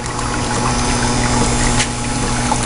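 A liquid pump runs steadily on a Gold Cube sluice, a constant loud mechanical hum with a faint watery trickle underneath, unbroken throughout.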